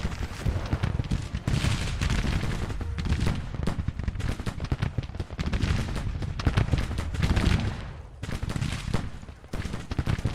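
Infantry musket volleys in the Grand Tactician Civil War strategy game during a Spring 1863 Union campaign, continuous crackling rifle fire with booming rolls, loud and sustained across the battle.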